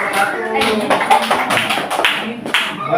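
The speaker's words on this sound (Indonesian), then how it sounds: "Tepuk tangan. Buat kelompok 1." A classroom of students clapping for group 1 after a quiz answer, uneven near claps bursting in clusters over a lively room with a voice speaking along.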